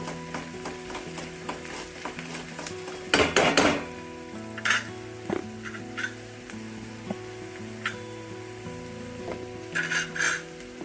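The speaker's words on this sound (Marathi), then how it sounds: "अगोदर कांदा खूप छान असं परतून द्यायचा आहे आपल्याला." Chopped onion sautéing in a pan for masala Maggi noodles, a soft sizzle under a spatula's scraping and clinks against the pan, with a steady background hum.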